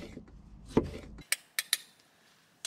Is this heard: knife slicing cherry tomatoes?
yes